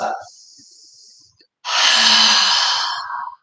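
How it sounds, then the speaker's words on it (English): An open-mouthed exhale like fogging a mirror, done as a breathing exercise in a yoga class: a short breath first, then a long, loud, airy haah lasting close to two seconds, heard up close. "act like you're trying to fog up a mirror with your exhale"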